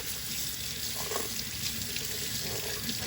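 Tap water runs steadily into a sink while reborn doll vinyl is washed, giving a constant close splashing hiss with no talking.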